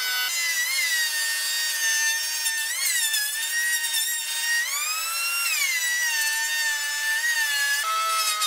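A circular saw mounted in a combination table with a router and jigsaw cuts through wood, giving a loud, continuous high-pitched whine whose pitch dips and rises as the blade takes the load.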